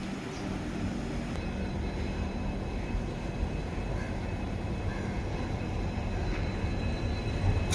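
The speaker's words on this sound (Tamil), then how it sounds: "மதுரை டு ராமேஸ்வரம் புல் பண்ணிட்டு வர loco WDP 4D GOC 40437 golden rock diesel லோக்கோங்க." A WDP 4D diesel locomotive from Golden Rock hauls the Madurai–Rameswaram passenger train with a steady low rumble and grinding roll of wheels, sustained and close throughout.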